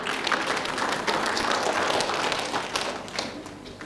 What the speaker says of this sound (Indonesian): Oke, tepuk tangan gemuruh dulu ya